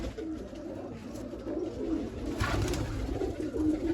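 Racing pigeons in a loft coo and rumble steadily at close range, a continuous low warbling from several birds with no voices over it.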